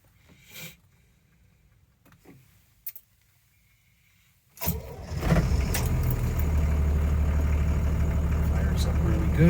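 A 1980 International Scout II Traveler turbo diesel cranks and fires after its glow plugs are heated, then settles into a loud, steady close-up idle; faint clicks and a few quiet handling sounds come before the start.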